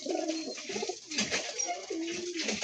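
Pigeons coo close by in repeated low, rolling phrases with short pauses between them, clear and fairly loud with no talk over them.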